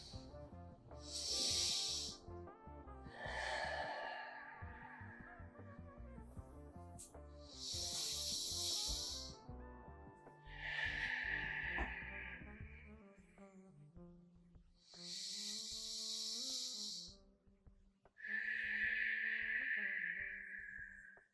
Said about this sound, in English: doing at least 5 up to 10 diaphragmatic breaths